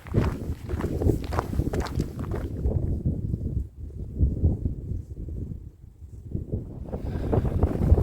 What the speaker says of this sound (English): It's pretty windy down here.